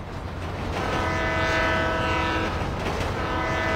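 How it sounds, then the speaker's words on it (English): A train in GTA 5 rumbles past with a steady mechanical roar and a long horn tone riding over the top, fairly loud and continuous. "Train ain't stopping here, boys!"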